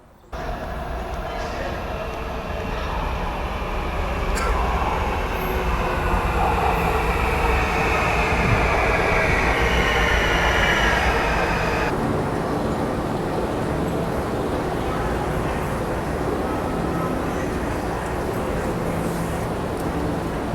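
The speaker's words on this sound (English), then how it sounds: "Let's get on this Metro." A Washington DC Metro subway train rumbles steadily for about twenty seconds, with a loud, continuous roar and rising mechanical whine from inside the car, while a person talks.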